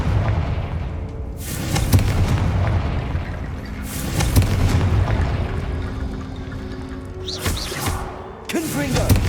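Confringo blasting spells from Hogwarts Legacy explode loudly in a series of roughly four heavy bursts, each a broad booming crack with a rumbling tail, set against a constant low game ambience.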